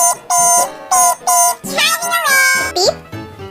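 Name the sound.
voice imitating a car beeping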